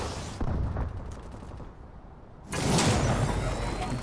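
HBRa3 rifle fire in Call of Duty Advanced Warfare: dense bursts of rapid shots, a loud volley at the start, a brief lull, then renewed heavy automatic fire with a bright crackling tail.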